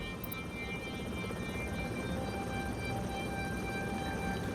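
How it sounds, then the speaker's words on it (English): Helicopters fly over the battlefield in the video game Tom Clancy's EndWar, a steady whirring rotor drone that holds evenly throughout with no speech. "they keep calling choppers in"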